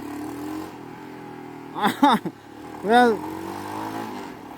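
A warmed-up Royal Enfield Himalayan motorcycle with a ported and polished throttle body revs in a couple of short, rising blips over a low idle, close by, while someone speaks briefly.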